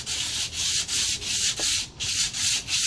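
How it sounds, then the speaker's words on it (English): Coarse 80 grit sandpaper held in the hand rubs lightly along a wooden 2x4 being shaped into a walking staff, a steady close rasping scrape in rhythmic back-and-forth strokes of roughly a third of a second each. "we got some 80 grit sandpaper here. We're going to take it just in our hand, and just nice and lightly"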